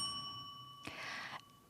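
A single contest timer bell strikes once, a short bright ding that rings for about half a second against a quiet room with a faint steady hum.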